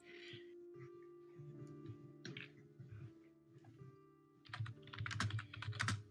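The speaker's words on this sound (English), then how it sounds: "I'm typing this to you." Fast clicking of computer keyboard keys during a tabletop roleplaying session, soft bursts of typing that grow into a quicker, louder flurry near the end, with faint room sound beneath.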